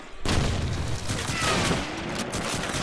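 Rapid gunfire crackles through a competitive shooter match, several shots firing in close succession over steady game noise and commentary, with a quick no-scope shot among them.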